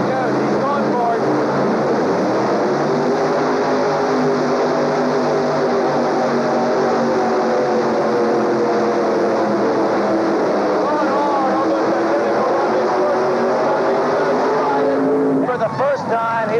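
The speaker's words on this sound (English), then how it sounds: "468 cubic inches in these supercharged Chevys." A 468-cubic-inch supercharged Chevy engine roars at full power pulling a sled down the track at the 1985 Indy Super Pull tractor pull, a loud, sustained droning blare holding steady for most of the run before cutting off near the end, with a voice talking over it.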